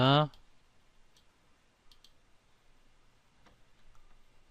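Computer mouse clicks during CAD work on car modelling, a few faint, sparse clicks spread across a quiet room after a brief burst of voice at the start.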